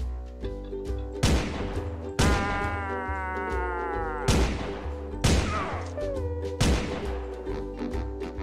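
Gunfire from the cartoon-styled shooter SpongeGlock SquarePants, loud close shots ringing out in a series of separate blasts about a second apart, each leaving a ringing tail over a low background hum.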